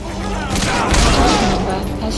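Rapid gunfire from the video game Metal Gear Solid V, a dense, loud burst of shots lasting the whole moment over a low rumble, with game voices mixed in.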